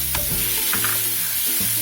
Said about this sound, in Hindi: इसको भी अच्छे से मिक्स कर लेती हूँ